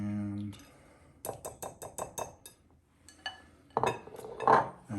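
A spoon stirs dressing into macaroni salad pasta in a bowl, a run of quick clinks and scrapes followed by a few louder knocks against the bowl, with a voice briefly at the start.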